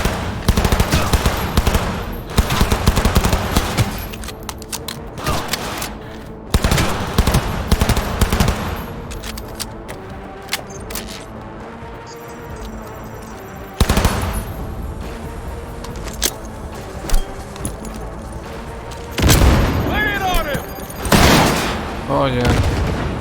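Video game gunfire in Cyberpunk 2077, loud bursts of rapid automatic fire and single shots in irregular volleys with short lulls, close and intense, with voices and shouting heard between and beneath the shots.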